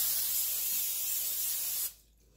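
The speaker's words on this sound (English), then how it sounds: "then I spray the bowl, the inside of the bowl," Cooking spray hisses steadily into a bowl for bread dough, one continuous close spray that cuts off abruptly near the end, leaving quiet.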